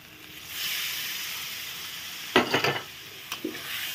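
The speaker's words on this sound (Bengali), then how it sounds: "আমি এখন মশলার বাটিটা ধুয়ে এক বাটি জল দিয়ে দেবো।" A bowl of water poured into frying spice masala for a fish curry: a quiet steady sizzle gives way to a sudden burst of loud crackling spatter, then a second shorter splash and hiss.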